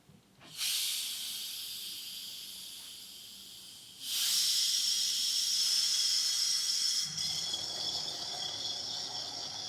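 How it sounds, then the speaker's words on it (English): A cap is cracked open on a bottle from a DIY carbonator, and carbonated liquid fizzes with a sharp hiss that surges louder, then settles into steady bubbling. "Just listen to that bubbling."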